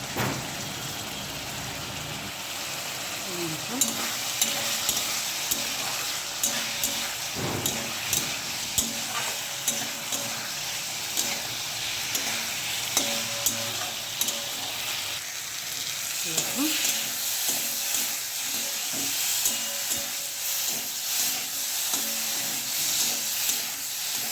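Ginger-cumin paste and chili powder frying in a pan, a continuous crackling sizzle close by with intermittent scrapes and knocks of a spatula stirring.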